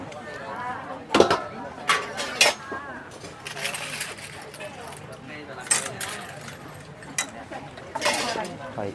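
Utensils clink and scrape against a basin while a Thai spicy salad with crab and seafood is tossed at a market stall, with irregular metallic knocks and people talking over it.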